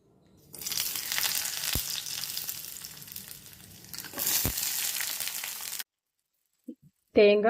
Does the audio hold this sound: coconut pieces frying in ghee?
yes